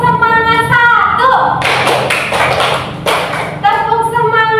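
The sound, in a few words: children doing a rhythmic 'tepuk semangat' clapping chant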